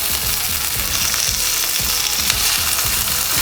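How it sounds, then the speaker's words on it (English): Mushrooms, spinach and tomato sizzling loudly on a hot grill pan, a dense continuous crackle with sharp spattering pops that carries on unbroken and close. "grill my mushrooms, my spinach, my tomato"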